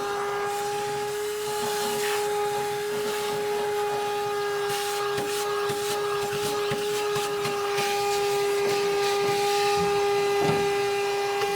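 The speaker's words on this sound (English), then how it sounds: "you need a shop vac. I have this battery powered one that I use for a lot of my grill cleaning" Battery-powered shop vac running while cleaning a pellet grill, a steady high whine with a hissing airflow and intermittent clatter of debris being sucked up.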